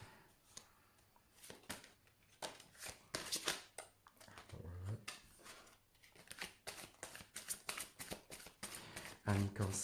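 Tarot cards being shuffled and drawn, with repeated crisp riffling and flicking bursts and soft slaps of cards, close and quiet, while someone speaks French throughout.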